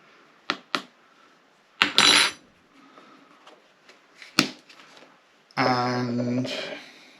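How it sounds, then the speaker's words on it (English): A teaspoon of black pepper is measured out and added, giving a scattered series of sharp metallic clinks and taps with quiet gaps between them, and a brief voice near the end. "I'm going to put in just 1 teaspoon of that"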